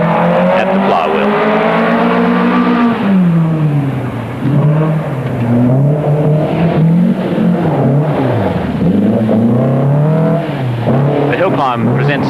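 Datsun 1600 rally cars at a hill climb, their engines snarling loud and close as they climb through the revs, ease off and rev again through gear changes, with faint tyre noise under the roar.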